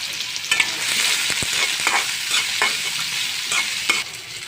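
Chopped onions sizzle in hot oil in a pan, cooking for a Bengali koi fish dish. The frying hiss is loud and continuous, with a few sharp stirring scrapes and pops and no voices.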